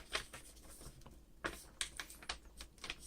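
Origami paper being pressed and folded into a walrus shape gives soft, crinkly taps and rustles in a steady scattering of small bursts, close and quiet, with no voices.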